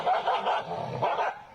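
A dog barks and growls up close, a couple of loud, rough woofs running into a gruff low rumble over about a second and a half.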